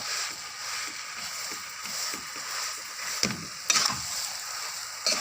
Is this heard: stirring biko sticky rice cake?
yes